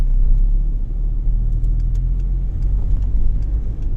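Steady low engine rumble of a 2008 Skoda Fabia II driving, loud and continuous, with light ticking and road noise over the drone.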